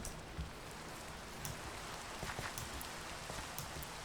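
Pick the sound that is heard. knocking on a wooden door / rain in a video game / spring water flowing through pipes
rain in a video game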